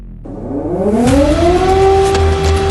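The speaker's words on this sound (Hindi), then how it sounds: "युद्ध के गूंजते सायरन से सनसनी फैल गई है" An air raid siren in Ukraine during wartime winds up from low to a loud, sustained wailing tone.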